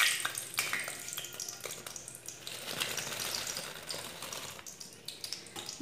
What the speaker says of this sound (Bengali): আমি ডালের বড়াগুলো রসের মধ্যে দিয়ে দিচ্ছি।